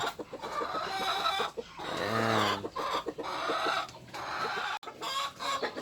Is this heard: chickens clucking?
yes